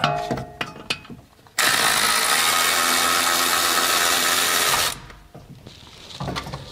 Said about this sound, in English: electric ratchet to get the rest of these out.